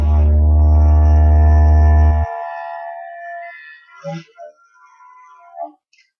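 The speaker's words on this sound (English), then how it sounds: "see, how to play the didgeridoo is it's kind of like playing a tuba" A didgeridoo drones at a low pitch, one loud sustained note held for about two seconds that then stops abruptly. A few faint, scattered sounds follow after it.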